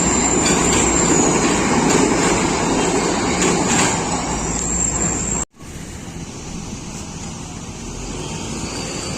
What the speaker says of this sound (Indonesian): Wah, kereta guys lewat.